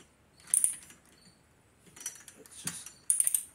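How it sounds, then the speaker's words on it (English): A torque wrench tightens a bolt on a rebuilt Yamaha TW200 motorcycle fork, giving a few faint ratcheting clicks and metallic clacks in separate short bursts against a quiet background. "So we're going to torque that down."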